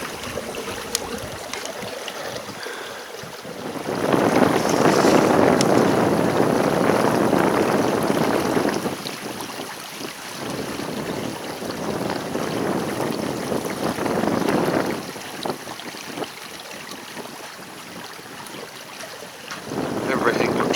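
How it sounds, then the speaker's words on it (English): Sailing boat moving across a Suffolk estuary in the wind, with steady broadband rush of wind and water that swells and eases in long waves, loud and close, blustery microphone buffeting. "This is just how I like to sail."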